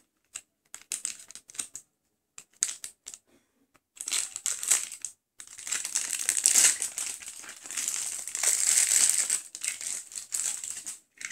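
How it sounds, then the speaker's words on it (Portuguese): A foil-wrapped Lacta milk chocolate Easter egg is opened with scissors: irregular bursts of crinkling and crumpling wrapper, sparse at first, then a denser continuous rustle, with no talk. "Não veio, mas eu vou abrir com a tesoura."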